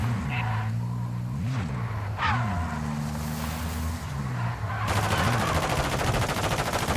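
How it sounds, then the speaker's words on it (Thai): In a Call of Duty Warzone DMZ match, a vehicle engine drones with shifting pitch, then a loud rapid stream of automatic gunfire cuts in and keeps rattling steadily to the end. "มีคนยิงกู"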